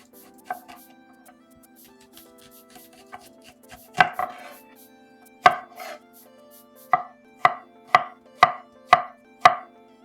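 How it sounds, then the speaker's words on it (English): A knife slices garlic on a cutting board, sharp close chops that start scattered and settle into a steady rhythmic run of about a dozen, with a low hum underneath. "I've got some garlic here, and I'm going to just slice up some garlic."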